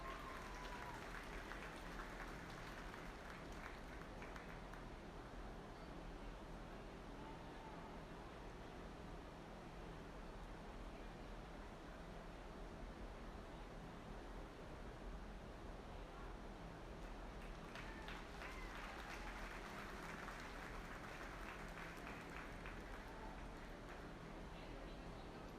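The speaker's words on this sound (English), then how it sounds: "let's give these kids a big round of applause" A crowd of spectators at a 4-H/FFA beef heifer show claps in a long, steady, moderately distant round of applause, swelling slightly near the end, with a voice talking over it.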